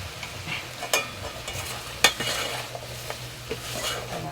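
Chicken curry cooked with milk is stirred in a pan: irregular spoon scrapes and metallic clinks over a low, continuous sizzle, close and fairly loud, with no talking.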